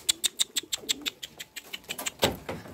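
Young homing pigeons coo and call from a rooftop loft a day before a race, a quick rhythmic series of close, bright calls repeating steadily without any talk.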